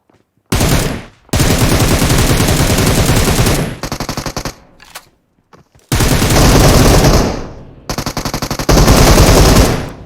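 Sustained bursts of automatic gunfire in the mobile game PUBG Mobile: loud, rapid rattling volleys in three long runs with short gaps between them, and no speech.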